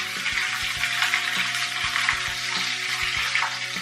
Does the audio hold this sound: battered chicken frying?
yes